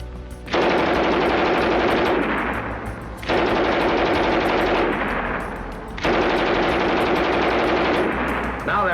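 A German MG-34 machine gun fires three long, loud, rapid bursts at close range, each a dense continuous stream of shots separated by brief pauses.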